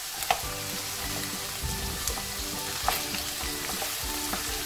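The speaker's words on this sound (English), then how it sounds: "So fry your potato until it starts getting cooked" Potatoes fry in oil in a pan, a continuous close sizzle and crackle with a faint low steady hum underneath and a few small clicks, no voices.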